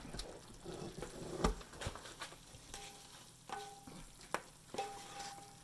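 Hot almond roca toffee in a pan gives off scattered sharp snaps and crackles over a soft, steady sizzle, with a few brief tonal clinks near the end.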